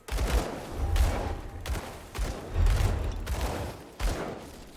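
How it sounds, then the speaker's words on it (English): Enemies firing guns in the action RPG Grim Dawn, a run of loud repeated shots with short gaps between bursts, steady through the whole stretch with no talk over it. "Those guys is shooting."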